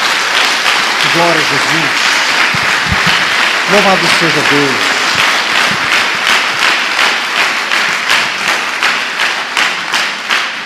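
A church congregation claps in a loud, continuous round of applause praising the Lord, while a preacher's voice speaks over the start and middle before the clapping carries on alone.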